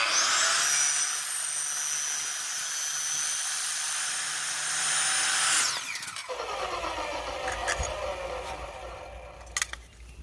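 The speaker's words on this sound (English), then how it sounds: "I'm just using one of my old chop saws with a real crappy 40 tooth blade. That's what I'm cutting it with." An old chop saw fitted with a coarse 40-tooth blade whines at high speed and cuts for about five seconds, then spins down with a falling pitch, followed by a few sharp clicks and clatter.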